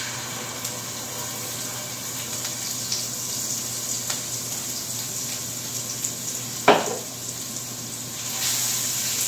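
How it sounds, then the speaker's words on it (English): Alkaline mock garlic goes into hot grapeseed oil in a skillet, setting off a steady, hissing sizzle that fills the background, with one sharp clink partway through. "I have a skillet here with some grapeseed oil already. And we are going to add 3 tablespoons of my alkaline mock garlic to it."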